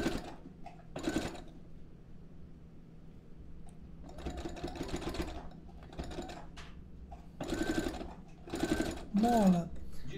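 Sewing machine stitching a small zip pouch in short, rapid mechanical bursts separated by pauses, a close whirring clatter starting and stopping.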